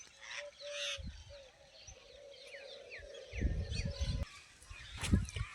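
Birds perched in a tree on a farm call with repeated short honking and chirping notes, moderately close, against soft rustling and low outdoor thumps.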